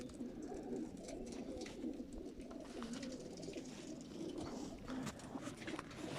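Many racing pigeons cooing together before release in a low, continuous murmur, close by, with faint rustling and no talking.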